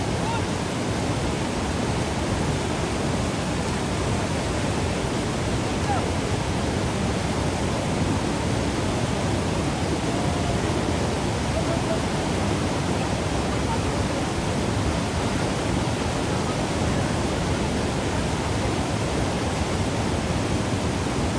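A strong river current rushes in a dense, unbroken roar at a fishing spot, steady and loud from start to finish with no pauses.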